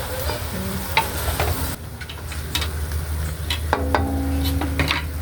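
Water spinach sizzles and crackles frying in a hot pan while a utensil scrapes and stirs intermittently, with occasional clinks of metal.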